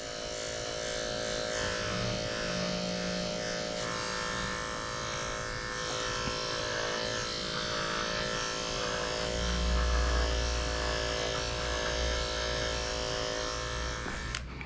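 An electric razor shaves a Cocker Spaniel's fur down to the chest bone, making a continuous close, loud buzzing drone that shifts in pitch as it moves through the coat and then stops abruptly at the end.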